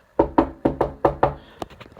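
Someone raps on a door: six firm, evenly spaced knocks ring out close and loud, followed by a few quicker, lighter taps.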